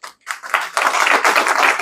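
An audience at a business training session breaks into clapping, starting with a few separate claps and quickly swelling into loud, dense, continuous applause close by.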